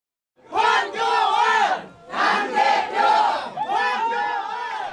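Supporters shout and cheer in unison at a political rally announcing a party leadership bid, three loud chanted bursts separated by short pauses, close and crowded.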